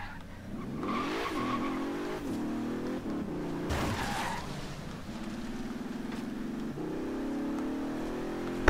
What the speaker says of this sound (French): J'adore là quand on est en sous-régime, qu'on rétrograde comme ça